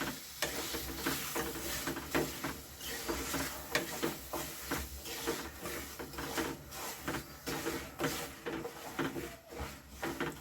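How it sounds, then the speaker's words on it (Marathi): Jaggery syrup being stirred in a pan for sesame ladoo, a dense, continuous scraping and bubbling sizzle with repeated stirring strokes, close and fairly steady throughout. "आता चांगलं मस्त हलवून आता पाक तयार करून घेऊ"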